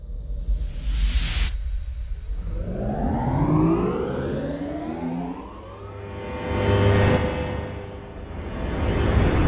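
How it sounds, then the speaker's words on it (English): A cinematic riser sound effect builds suspense with layered tones sweeping steadily upward over several seconds, followed by a swelling whooshing wash, loud and alone. "The first category of sound design elements that we're going to talk about is called a riser."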